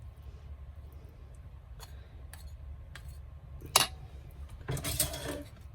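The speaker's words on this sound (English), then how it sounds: "Get all the goodness off the spatula" A spatula knocks and scrapes against a pan while cooking stuffed spinach pork chops: a few scattered light metallic clicks, then a sharp tap and a brief, louder scrape toward the end, in a quiet room.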